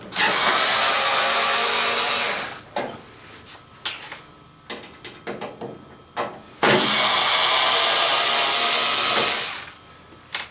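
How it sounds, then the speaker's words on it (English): A power drill or driver backs out screws from a Samsung dryer door panel, with two long loud whirring runs separated by a gap of small clicks and handling knocks, close by and without speech. "So I'm going to remove these top 3 screws."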